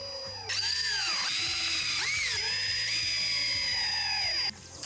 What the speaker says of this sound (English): you can tip the boards and finish drilling the final hole and insert the screws then